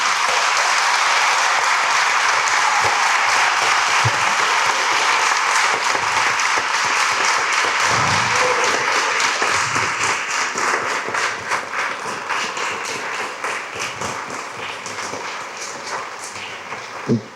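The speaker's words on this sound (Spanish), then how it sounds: "les invito a todos pues que le demos un fuerte aplauso a Antonio por su pregón." A festival crowd in Spain applauds warmly after the proclamation speech for the Santiago Apóstol celebrations in Tunte, dense clapping that holds steady and then thins toward the end, with a few louder individual claps and a low bump or two.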